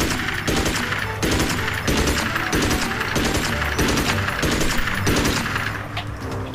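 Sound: machine gun firing in the video game Magicka

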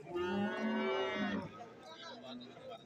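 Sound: domestic buffalo lowing

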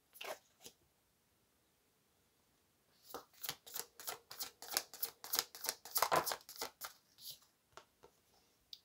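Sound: shuffling tarot cards

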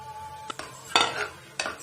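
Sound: adding ground coconut, green chili and spice paste to chicken gravy

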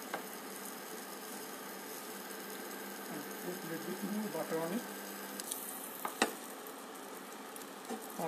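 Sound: cumin seeds sizzling as added to hot pan

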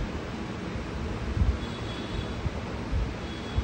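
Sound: Xiaomi Mi smart fan running at maximum speed

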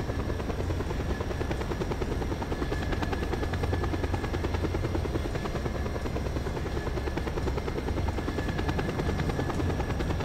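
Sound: helicopter flying, from video game Just Cause 2

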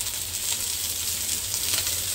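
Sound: chicken wings frying in oil

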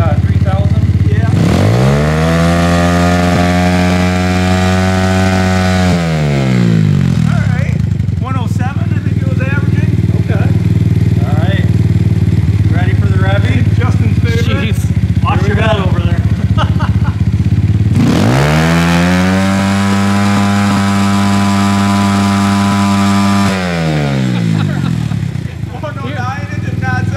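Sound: engine revving through muffler

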